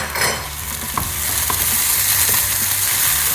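Ginger and garlic paste fries in a pan over medium heat while being stirred, giving a loud, steady sizzle with scraping strokes throughout.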